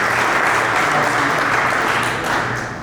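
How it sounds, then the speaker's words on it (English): Loud, close applause fills a gathering at a cannabis industry event in Colorado, a thick wash of many hands clapping steadily and tapering slightly at the end. "We can give a round of applause for those folks."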